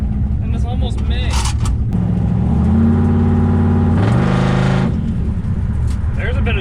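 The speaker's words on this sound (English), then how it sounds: "There's a bit of turbo noise" A twin-turbo Chevrolet Malibu with large turbos is driven on a cold day, its engine droning inside the cabin and rising in pitch with a faint turbo whir, while a person talks over it.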